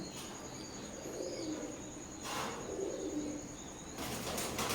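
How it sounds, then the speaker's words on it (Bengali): Aliwala 35 pigeons kept in a loft coo softly amid faint shuffling and a couple of short wing-flapping bursts, all quiet and close. "এখন স্ক্রিনে যে কবুতরগুলো দেখতে পাচ্ছেন এগুলো হচ্ছে আলিওয়ালা থার্টি ফাইভ"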